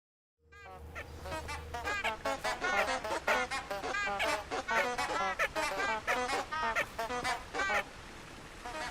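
Flowers in the video game Hogwarts Legacy give off a loud, continuous chorus of rapid, nasal, duck-like quacks and honks lasting several seconds, with no voice over them.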